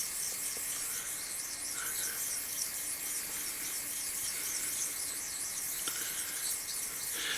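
Steady, close scraping and rubbing as a straight razor is honed in circles on a Chinese stone with slurry, continuous and fairly quiet with a gritty, rasping texture and no speech.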